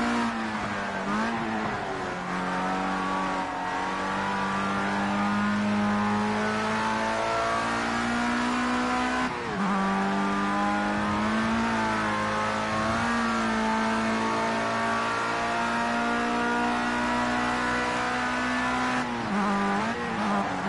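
A racing truck in Project Cars 2 holds a loud, sustained engine drone that climbs through the revs, dips at gear shifts and climbs again, with no talking over it.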